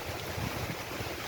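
Heavy rain lashes down in gusty wind while tree branches shake, a dense, steady rushing roar close to the microphone with wind buffeting throughout and no voices.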